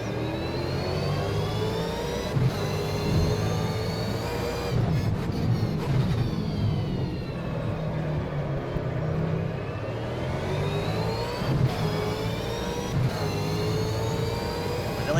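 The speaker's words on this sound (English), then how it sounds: "A lot of engine braking, just feeding it gears." Loud V8 Supercar engine at Pukekohe in New Zealand, engine braking down through the gears with falling pitch sweeps. Revs blip sharply on each downshift, and the steady roar fills the clip without speech.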